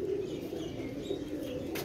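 A pigeon coos softly at close range, low murmuring calls rolling on and off over a quiet background for a couple of seconds.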